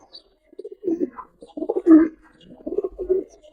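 A Giribaz high-flyer pigeon coos nearby in several soft, low, throaty phrases separated by short pauses.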